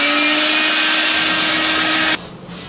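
A meat grinder stuffing sausage casings gives a loud, steady motor whine with a grinding drone for about two seconds, then cuts off abruptly, leaving quiet room noise.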